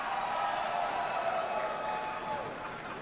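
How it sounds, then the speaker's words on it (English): An Oklahoma City wrestling crowd gives Dalton Castle an ovation, a steady wash of cheering and applause that holds at an even level and fades slightly near the end. "Great ovation from the Oklahoma City crowd here for Dalton Castle"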